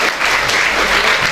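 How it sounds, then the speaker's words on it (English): Dense applause from an audience welcoming Mr. Nimit Grover at the Medha Manyata Divas 2023 event, a steady, loud wash of clapping filling the brief moment without a break. "Let's give a huge round of applause for Mr."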